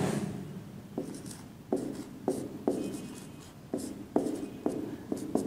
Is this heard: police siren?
no